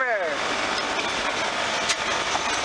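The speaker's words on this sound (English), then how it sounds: "Never shut the tractor off," A John Deere 4450 tractor engine runs steadily at close range during hay chopping, a continuous even rumble with open windows letting the field noise in.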